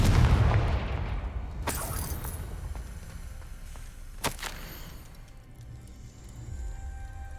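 A Confringo blasting spell goes off in Hogwarts Legacy, starting with a heavy low boom that decays into rumble, followed by a couple of sharp cracks against a quieter game ambience.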